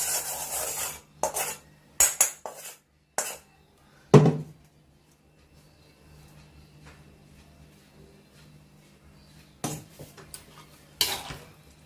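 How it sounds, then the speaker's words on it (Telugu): Gongura pickle being mixed with chili powder in a metal vessel, a few short scraping and clinking bursts of spoon on steel with quiet pauses between them and no talking. "తర్వాత ఈ కారాన్ని ఇందులో వేసి కలిపేస్తాం"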